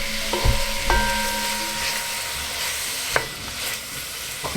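Mackerel rundown with tomatoes cooking down in a pan, a steady close sizzle with a few clinks and scrapes of a utensil against the pan, some faint tonal ringing early on, no talk.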